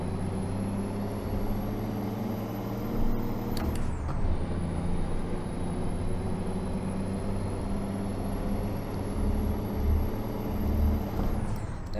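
A heavy truck engine in American Truck Simulator revs and climbs steadily under load, a loud continuous drone with a brief gear-change dip partway through and no talk.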